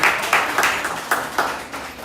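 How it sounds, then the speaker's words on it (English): Applause at the Liberian Entertainment Award ceremony, bursts of clapping rising and falling in several waves over a couple of seconds, moderately loud with no clear voices. "Let's give a bigger round of applause for that."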